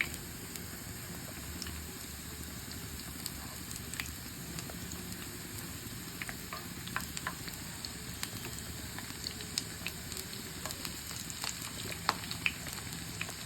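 Chicken keema sticks fry in hot oil in a pan, giving a steady soft sizzle with scattered small pops and crackles throughout, quiet and close, with no speech.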